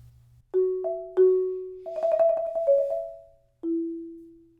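Struck mallet-instrument notes ring out, then a fast trill between two notes leads to a final sustained note fading away.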